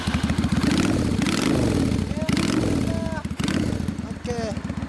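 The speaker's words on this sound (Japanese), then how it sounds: "エンジン音聞かせて。" A customized Yamaha DragStar 400 cruiser idles close by with a deep, loping, uneven rumble that swells and dips in a slow rhythm, with short vocal sounds over it.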